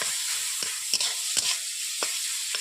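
Boiled mango added to a wok and stirred, a steady close sizzle punctuated by several sharp scraping stirs at irregular intervals, with no talking.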